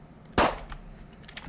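A Colt 1902 pistol fires once, a single sharp, loud crack that fades quickly into faint background noise.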